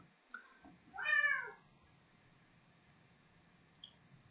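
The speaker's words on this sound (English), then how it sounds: "Your cat seems upset as well." A cat gives one clear, drawn-out meow close by, preceded by a few soft bumps, with a faint chirp near the end against quiet room tone.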